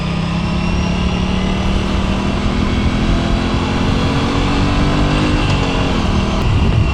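A 2024 Aprilia RS 457 sportbike, a 457cc motorcycle, running on a test ride, its engine loud and close with a steady rising and falling drone and rushing wind, and no speech.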